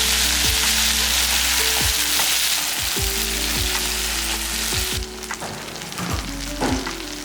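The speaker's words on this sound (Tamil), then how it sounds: "இப்போ நம்ம எடுத்து வச்சிருக்க கத்திரிக்காய் எல்லாமே எடுத்து இதில் போட்டுக்கலாம்." Eggplant pieces fry in a pan, giving a loud, constant sizzle with repeated low knocks and scrapes as they settle, the hiss thinning slightly toward the end.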